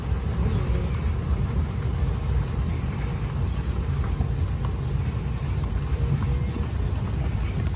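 Steady hoof clip-clop of a carabao (water buffalo) walking, continuous and fairly close, with a low rumble of movement throughout and no talking.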